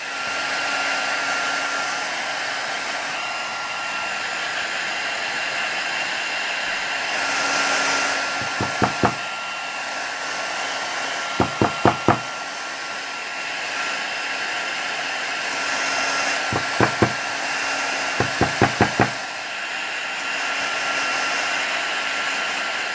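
Hair dryer blowing steadily on wet paint on a small mixed media toucan canvas, a loud continuous whooshing drone with a few brief clicking rattles near the middle and later on.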